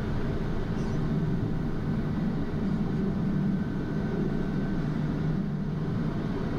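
A Pilatus PC-12 turboprop taxis toward the runway, its engine a loud, constant drone heard from inside the aircraft, with no talking over it.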